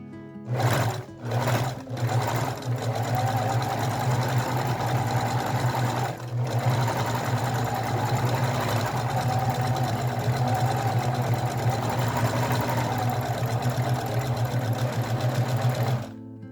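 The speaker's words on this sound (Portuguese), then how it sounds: "E a gente só vai vir fazendo a costura." Domestic sewing machine stitching knit fabric, a steady loud mechanical whir running almost continuously after a couple of brief starts and stops at the beginning, with one short pause midway.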